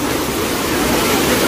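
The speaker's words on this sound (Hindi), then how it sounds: "मतलब कि जगह जगह पे वाटरफॉल बन रहा है यहाँ पे तो" Rani Dahra waterfall in Kawardha, Chhattisgarh, a loud, dense and steady roar of falling water heard up close with no break.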